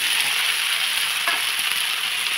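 Soybean chunks fry in hot oil with a continuous bright sizzle close to the pan, joined by a few faint stirring clicks, and no voices.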